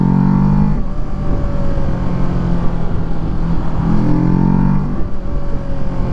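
A 2019 Kawasaki Ninja 650 engine revs under way with a loud, steady drone. The pitch sweeps upward twice as the throttle opens, against a rushing background.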